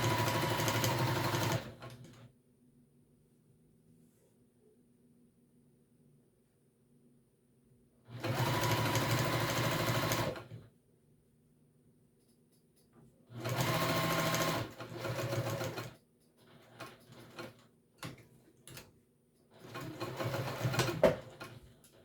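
A sewing machine stitches a backpack's edges, running in three or four loud bursts of steady whirring, each a few seconds long, separated by quiet pauses with faint background hum.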